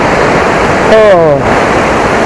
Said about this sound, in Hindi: देखिए आप लोग देख पा रहे हो मेरे पीछे ये वाटरफॉल है।